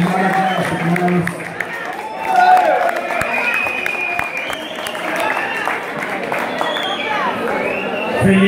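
Concert audience applause rolls on as a steady mass of clapping and crowd noise, with voices and chatter layered through it and a brief swell partway in.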